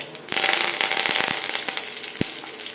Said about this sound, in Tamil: கருவேப்பிலை நல்லா பொறிஞ்சு வரணும்